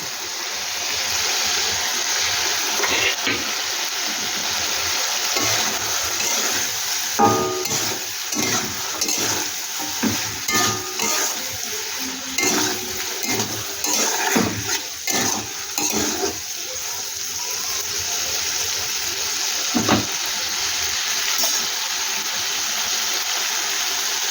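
Egg bhujia for a curry fries in a pan while being stirred, a steady close sizzle with irregular scraping and clattering stirs, louder in the middle, with no speech.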